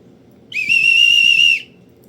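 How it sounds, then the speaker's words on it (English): A general-purpose metal whistle from an everyday carry kit gives one loud, steady shrill blast lasting about a second, alone against a quiet background. "It's just a general whistle."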